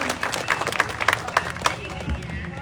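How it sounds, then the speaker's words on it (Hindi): An audience at a live Haryanvi ragni performance claps to welcome a guest, a patter of hand claps of moderate loudness under someone speaking over a PA and general crowd murmur. "जोरदार तालियों से स्वागत और अभिनंदन।"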